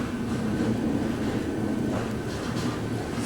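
The Secunderabad–Howrah Falaknuma superfast train pulls out of Rajahmundry station platform 3, heard from on board as a steady low rumble of wheels and carriage noise at moderate volume.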